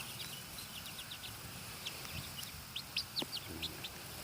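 Chickens, including brooding hens, chirp and cluck softly in the background, with a few sharper calls near the end.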